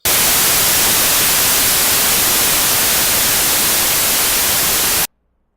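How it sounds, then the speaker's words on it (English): Five seconds of steady, loud white noise, the same signal on two identical tracks summed to one output: an even full-band hiss that starts and cuts off abruptly, followed by silence. "taking 5 seconds of white noise, which I've placed on 2 separate but identical tracks, and routed them to a single output"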